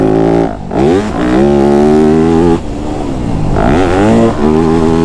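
A Yamaha YZ250F dirt bike engine revs hard while riding, rising and falling in pitch with each throttle blip and gear change, loud and close with brief dips between pulls.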